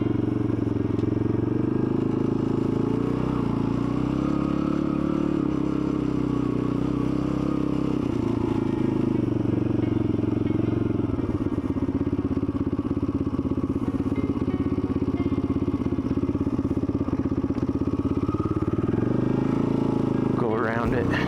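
A dirt bike rides through woods with its engine droning loud and close for the whole stretch, shifting in pitch as it revs and eases, along with rattling and bumps from rough ground.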